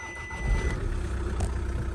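A Porsche engine turns over and catches, settling into a steady low rumble that stays loud and close throughout, with a brief mechanical clatter partway through and no talking.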